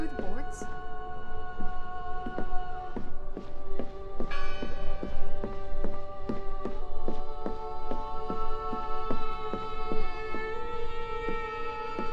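A church bell in the video game Draugen tolls in a steady, ringing rhythm, its strokes repeating with sustained harmonic overtones over low ambient music, with a brief voice heard near the start.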